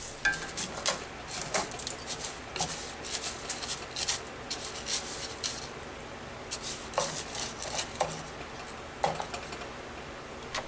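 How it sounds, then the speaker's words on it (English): Rice and pasta get stirred in butter in a cast iron skillet: intermittent scraping and clinks of a utensil against the pan over a soft sizzle, close up. "We add in the rice and pasta and stir it around to coat it with the butter."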